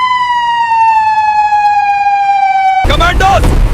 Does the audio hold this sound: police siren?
yes